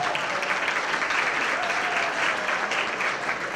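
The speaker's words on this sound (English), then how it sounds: "Give them a big round of applause" Steady, dense applause rolls through a banquet room as an audience at a high school athletic excellence banquet claps for its sports programs, sustained and even from start to finish with no voices.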